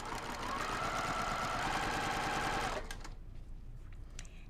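A sewing machine runs steadily and close for almost three seconds while stitching small quilt blocks, then stops. Faint handling noises follow.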